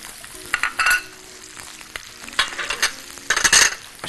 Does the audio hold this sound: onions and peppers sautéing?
yes